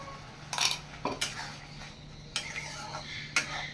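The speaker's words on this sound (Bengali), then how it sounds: "খুব ভালোভাবে মিশিয়ে নেব।" A spoon stirs fish masala with fried onion and cashew paste in a pan, making four or five short scraping clinks against the metal spaced about a second apart, faint and close, over a low steady hum.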